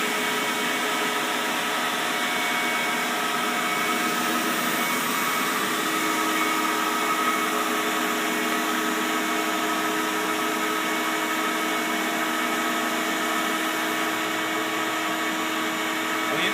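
A homemade drum sander runs steadily with a continuous motor whir and a sanding hum, holding an even, loud level throughout with no pauses or voices.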